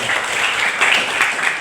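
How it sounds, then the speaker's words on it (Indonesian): An audience at a school civic outreach event claps and applauds steadily, a dense, loud wash of many hands throughout. "Tepuk tangan sekali lagi untuk"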